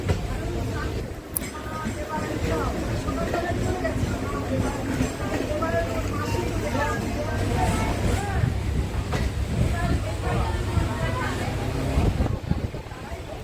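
Train interior near Sealdah station in Kolkata, a steady loud rumble of a moving train with rattling carriages throughout, some indistinct voices mixed in.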